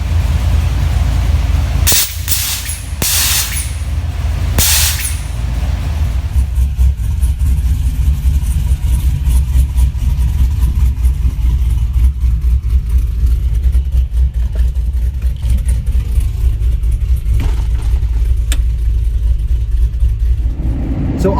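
Cammed truck engine after a cold start, idling loud and close with a heavy, rough low rumble, preceded by a few sharp bursts of noise near the start.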